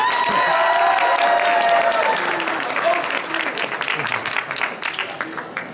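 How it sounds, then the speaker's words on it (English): Banquet crowd claps and cheers to vote for Alex's little brother in a sports dinner dance off, loud dense applause with shouts that thins toward the end. "If you'd like to vote for Alex's little brother,"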